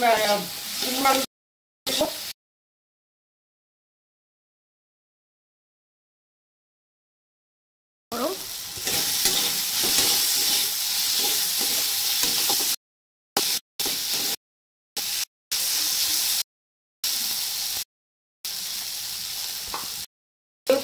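Mung dal with chickpeas and spices sizzling and frying in oil, stirred in a pan for a vegetarian pumpkin-potato curry; steady close hiss in bursts broken by cuts, with a brief voice at the start.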